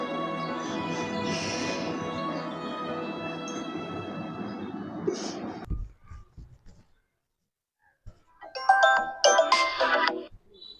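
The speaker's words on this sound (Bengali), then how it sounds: "আমি ললিতাকে ফোন করছি।" Phone ringtone playing while a call is being placed, a steady bright melodic tone running for several seconds, then a pause and a louder burst of ringing or electronic chimes near the end.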